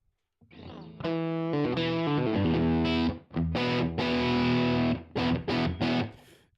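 A distorted electric guitar played through a room reverb set to about a 40% mix rings out in several struck, sustained chords with short breaks between, and no one talks.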